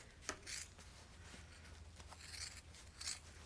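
Scissors snip through layered fabric tabs, a flap and quilt batting, giving quiet, close crunching cuts in a few separate bursts with soft rubbing between them.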